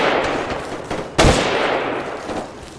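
A single sharp, loud gunshot in an ARMA 3 firefight stands out above a steady broadband rumble, with fainter distant shots scattered around it.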